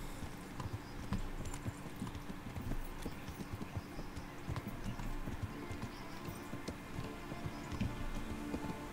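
Horse hooves clip-clop at a steady walking rhythm in the video game Kingdom Come: Deliverance, close and continuous, with faint background ambience.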